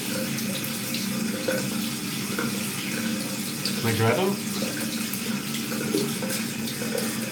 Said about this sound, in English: Just run the faucet.